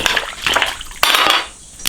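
Beef bones go into a pot of cold water, giving loud close clanks and knocks against the pot along with sloshing water in a few irregular bursts.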